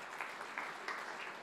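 Faint, distant applause from a church audience during an Indonesian sermon, a soft continuous patter of many hands with slight pulses.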